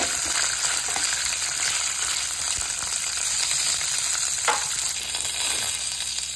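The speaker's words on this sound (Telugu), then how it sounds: "వెల్లుల్లి ఎక్కువ ఫ్రై అవ్వకూడదండి" Garlic and green chillies frying in hot oil in a pan, making a steady, close, loud sizzle with faint clinks of stirring and no voices.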